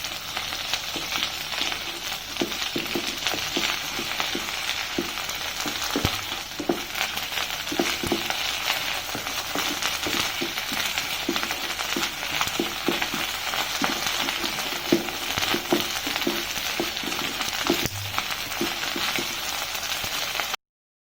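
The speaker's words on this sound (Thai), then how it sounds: "พอน้ำมันเริ่มเดือดแล้วเราก็จะมาใส่พริกแกงนะครับ อันนี้จะเป็น ที่แกงใต้นะครับ ผัดลงไปนะครับ" Southern Thai curry paste stir-frying in hot oil in a pan, a dense continuous sizzle with scraping stirs, loud and close throughout, no talking.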